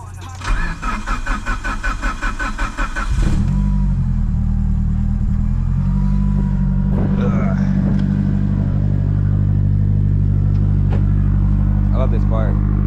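A built Mitsubishi EVO starts up and settles into a loud, steady engine rumble while cruising, with a rough, pulsing run at first before a continuous low drone. Brief voices come in faintly over the engine.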